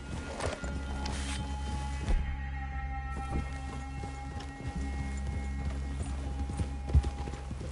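Horse hooves clop in a rhythmic series through a video game scene, mixed with ambient outdoor game sound and occasional louder knocks, moderately loud and steady throughout.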